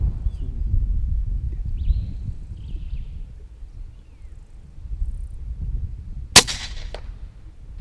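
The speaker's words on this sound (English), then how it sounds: "I hear the thud as that 22 caliber pellet passes straight through the head" A .22 caliber air rifle pellet strikes a dassie about 80 meters out on a cliff, one sharp crack-like impact standing out briefly over a steady low rumble of wind, with faint bird calls earlier.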